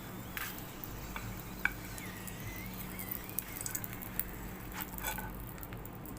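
Potato tacos frying on a tawa give a faint, steady crackling sizzle with light spattering pops scattered throughout.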